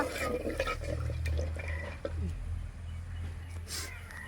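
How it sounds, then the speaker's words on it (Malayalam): Water splashing and trickling into a pot of fish curry, a steady wet pour with a low background hum and occasional clinks. "അപ്പോൾ എന്തായാലും നമ്മൾ കുറച്ച് വെള്ളം ഒഴിച്ചു കൊടുക്കുക."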